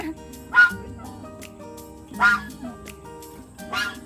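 A dog barks three times at roughly even intervals, fairly close, over a steady low background hum.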